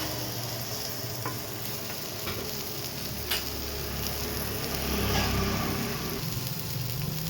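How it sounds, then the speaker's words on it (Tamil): A sandwich parotta fries on a restaurant griddle over a medium flame, giving a steady, close sizzle with scraping and stirring noises throughout and no voices. "மீடியம் ஃப்ளேமில் வச்சு இப்போ சூப்பரான சாண்ட்விச் பரோட்டா ரெடியாக போகிறது"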